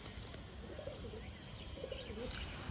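Pigeons coo softly in low, rolling phrases, two short bursts over a steady background hum, faint and fairly near.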